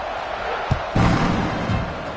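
Football stadium crowd roaring in a steady wash of cheering, swelling with a sharp surge midway, broad and continuous with no clear voice on top.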